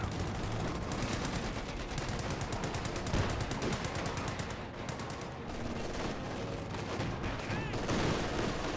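Sustained MG42 machine gun fire from the Company of Heroes 2 battlefield, dense rapid bursts mixed with other gunfire and explosions, loud and continuous throughout with a faint voice underneath.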